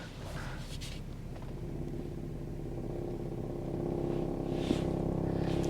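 A 2022 Toyota Tundra reverses slowly into a tight driveway, its engine giving a faint, steady low hum that swells slightly toward the end, with no voices over it.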